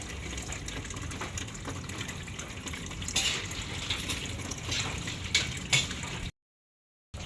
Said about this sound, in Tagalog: Lalagyan ko na din po ng tubig.